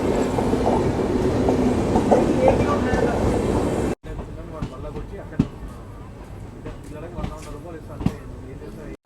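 Kacheguda InterCity Express running on rails near Medchal, Telangana, heard as a steady rumble with faint clickety-clack and occasional sharp knocks. The sound drops to a quieter interior ambience partway through, and voices are faintly audible.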